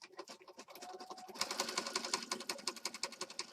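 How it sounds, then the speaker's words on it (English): Sewing machine stitching along the edge of a junk journal page, a rapid steady chatter of needle strokes that speeds up and grows louder midway, close and clear with no talk. "I'm just stitching down the edge here"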